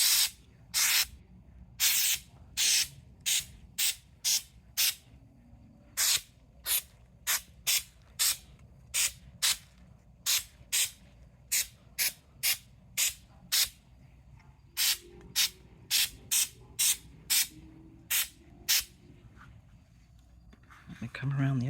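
Short bursts of artificial snow spray from an aerosol can hiss over a bottle brush tree centerpiece, repeated in quick rhythmic spurts with brief gaps, close and fairly loud against a quiet background.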